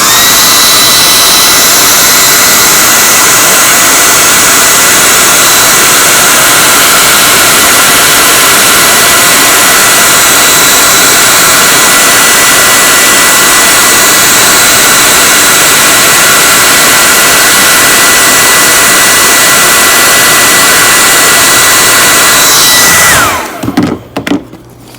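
CGS Hawk ultralight aircraft engine warming up, a loud steady roar with a constant drone and hiss that holds evenly for over twenty seconds before cutting out abruptly near the end.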